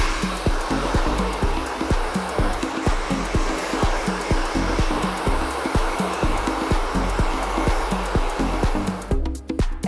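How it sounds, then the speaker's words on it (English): Hair dryer blasting steadily while power drying a model's hair with volumizing mousse, a loud close continuous whoosh with a rhythmic flutter throughout, cutting off just before the end. "So then we'll start off with power drying the hair."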